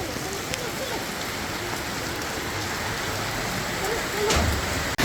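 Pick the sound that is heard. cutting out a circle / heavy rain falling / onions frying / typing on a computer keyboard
heavy rain falling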